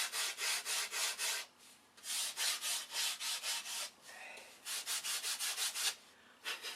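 A wooden flap gets hand-sanded with 80 grit sandpaper in fast rhythmic back-and-forth strokes, about a dozen rasping passes in runs broken by short pauses, close and fairly quiet.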